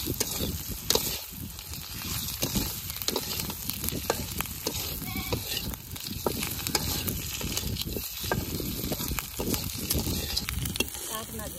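Boiled duck eggs frying and being stirred into an onion mixture in a pan, giving a steady close sizzle broken by scraping stirring strokes throughout.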